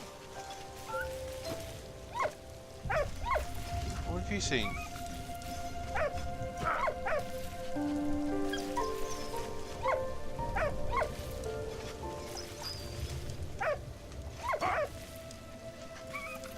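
A dog in the Valiant Hearts war video game gives scattered short barks and yips over a low ambient soundtrack, with brief speech at one point.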